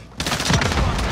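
Video game gunfire erupts as a dense burst of close shots under shouting voices, loud and rolling for about a second.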